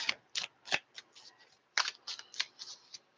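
Tarot cards are shuffled close up in a series of quick crisp riffling bursts with brief pauses between them.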